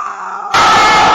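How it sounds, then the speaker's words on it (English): A sudden blast of harsh, distorted noise from a Sonic parody fangame such as Sunky.MPEG or Silly.TIFF, bursting in loud and dense after a steady droning tone and filling the rest of the moment. "Sorry, that scream was normal."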